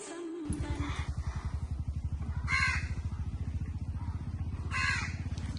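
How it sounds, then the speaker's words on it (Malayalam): A crow caws loudly several times close by, harsh repeated calls over a steady rhythmic engine chugging in the background. "കാക്ക കരയുന്നുണ്ട്."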